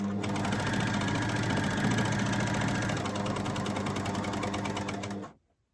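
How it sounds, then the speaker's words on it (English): An overlocker stitches along the edge of a fabric Santa gift bag, a loud, steady whirring hum with a rapid needle chatter running for about five seconds before stopping abruptly. "I'm going to continue to sew until the needles just leave the fabric at this end"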